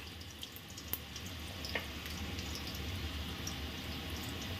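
Whole cumin seeds and dried chillies fry in hot oil, a steady soft sizzle with scattered faint pops and crackles throughout, fairly quiet and close.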